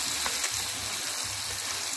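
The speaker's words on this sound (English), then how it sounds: "I'm sauteing onion, celery, garlic, and tomato" Onion, celery, garlic and tomato sauté in a pan for potato soup, giving a steady, close, even sizzle that holds without a break and with no talking.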